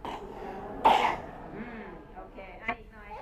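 A single short, harsh cough bursts out near the start, followed by softer throat and voice sounds.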